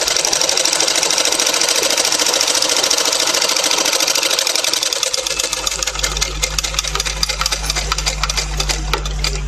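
A sewing machine stitches two matched pieces of cloth together during a tailoring lesson, its rapid mechanical whir running loud and close, joined partway through by a deeper, steady motor hum.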